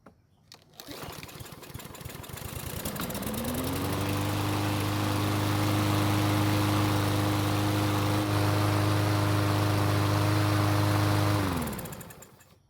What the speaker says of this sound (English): since it started and kept running, that means the carb was working to deliver fuel to the engine